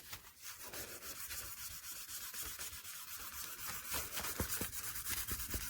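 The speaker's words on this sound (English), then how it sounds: "Let's burnish that to our backing." Polymer clay being burnished onto its backing for a pendant makes a steady, close, soft rubbing and scraping that continues for the whole stretch, with a few sharper ticks near the end.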